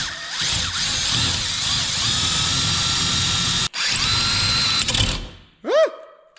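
A power drill bores out a rivet in a car-repair shop, whining loudly and continuously at close range for several seconds, with a brief dip partway through, before stopping; a sharp squeak and clatter follow.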